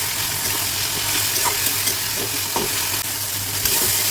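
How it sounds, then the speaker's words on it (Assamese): Tomatoes for an Assamese mustard-seed fish curry are stirred and fried in a pan. A steady, dense sizzle runs throughout, with occasional soft scrapes of stirring. "বিলাহীখিনি ধুনীয়াকৈ গলি যোৱালৈকে ধুনীয়াকৈ ভাজিব লাগিব"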